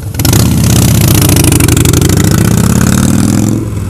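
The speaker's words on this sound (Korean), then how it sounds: "오토바이가 너무 시끄러워서" A loud Harley-Davidson motorcycle engine revs close by, its deep, throbbing low rumble holding steady for over three seconds before easing off at the end, with no talking.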